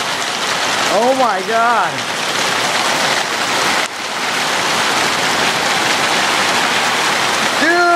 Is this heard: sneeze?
no